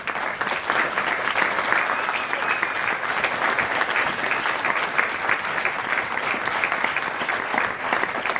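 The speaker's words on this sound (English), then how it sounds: "so we can give you a round of applause for how hard you have worked" Sustained applause from a graduation ceremony audience, a dense, steady wash of many hands clapping throughout at an even level, with no break.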